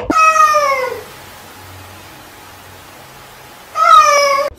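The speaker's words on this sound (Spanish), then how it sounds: "El gato Michin." A cat meows twice, each a drawn-out, rising-and-falling call close to the listener, separated by nearly three seconds of near silence.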